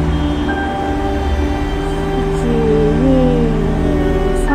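A three-car train, an event carriage with blocked doorways, stands idle at the opposite side of a station platform, giving off a steady low hum with faint tonal whines throughout and no talk.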